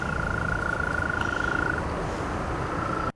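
Frogs croak in steady, dense chorus across a man-made swampy pond formed at a temporary snow dump beside a highway, with one high, thin call line running through a continuous, fairly loud background.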